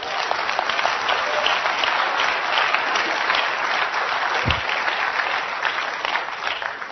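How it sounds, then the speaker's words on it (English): Church congregation clapping during a sermon, a sustained, even roar of many hands applauding, fairly loud and steady for several seconds, with a brief low thump near the middle. "Clap right there, pastors."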